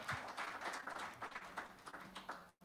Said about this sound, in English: we can clap for her as well